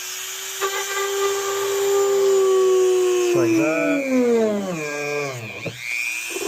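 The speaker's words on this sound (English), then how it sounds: "Pretty much all I'm doing right now is you just drill little holes through it like this" A steady high-pitched drill whine from a carbide bit drilling small holes, rising and bending in pitch as it bites, running continuously with a brief spoken remark near the end.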